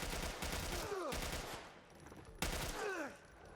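Automatic rifle fire from The Last of Us Part 1, heard as dense rapid bursts. A short pause falls between the volleys, and the whole thing sits fairly low in the mix.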